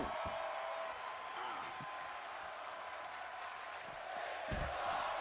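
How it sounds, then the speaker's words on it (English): Wrestling arena crowd at a live event chanting "this is awesome" together, a loud, sustained roar of many voices filling the space with rhythmic swells throughout. "The crowd chanting, this is awesome."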